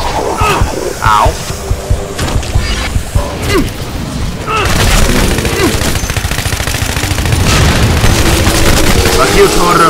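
Rifle fire in Shadow Warrior 2: sharp shots and booming impacts that grow into rapid, loud bursts during the second half, over game effects.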